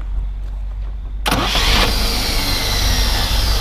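A 1956 Willys Jeep CJ5 engine cranks over and catches, then settles into a loud, steady, smooth-running idle close by.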